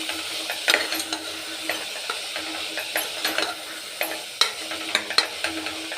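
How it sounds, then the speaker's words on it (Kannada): Fresh pigeon peas frying in oil give a steady close sizzle and hiss, broken by light scrapes and clinks of stirring, with no voices. "ಸ್ವಲ್ಪ ಹೊತ್ತು ಹಾಗೇ ಎಣ್ಣೆಯಲ್ಲಿ ಫ್ರೈ ಮಾಡ್ಕೊಳ್ಳೋಣ"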